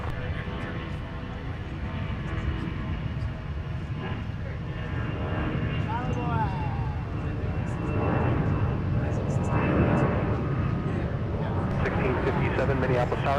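An airliner takes off from a runway at Minneapolis airport, its engine a steady broad roar that swells toward the end. Radio voices talk over it throughout.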